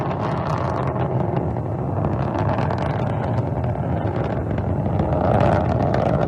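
Soyuz MS-23 rocket engines roaring at launch from Baikonur, a steady, dense low rumble with wind-like buffeting that holds constant throughout and swells slightly near the end, with no voices.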